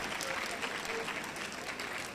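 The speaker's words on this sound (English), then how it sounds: "Give him another round of applause" Audience applause at a human library panel on spirituality and academic performance, a steady even wash of many hands clapping held at a constant level throughout, with faint voices underneath.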